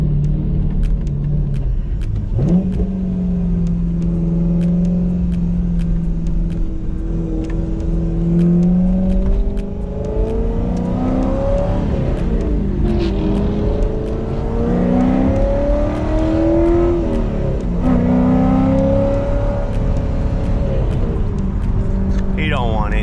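A Chevrolet SS engine idles with a deep rumble and then revs repeatedly, its pitch climbing and falling in several swells through the middle and end, close and loud, with faint talk mixed in.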